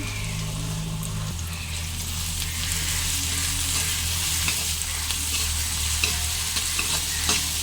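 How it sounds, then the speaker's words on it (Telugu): Onion and tomato pieces frying in a pan for a masala curry, with a close, steady sizzle and continuous stirring scrapes, fairly loud and with no voices over it. "చూడండి ఉల్లిపాయ ముక్కలు చక్కగా ఫ్రై అయ్యాయి కదా ఇప్పుడు టమాటా ముక్కలు వేసేసుకుందాం"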